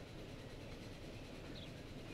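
Trains rumble steadily past a small crossing in the railway game Transport Fever, a constant low rolling roar with faint clickety-clack, moderately distant and quiet, no talking.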